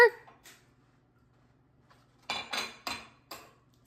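Eggs cracked one after another into a bowl for a puff pancake breakfast casserole, five sharp close taps and clinks grouped near the end, with a couple of faint knocks earlier and a low hum underneath.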